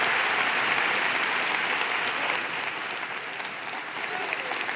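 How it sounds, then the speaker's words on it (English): A crowd at a live voting-rights event gives Eric Holder a loud, sustained round of applause, many hands clapping densely and evenly, easing slightly in intensity toward the end. "Please give Eric Holder a round of applause."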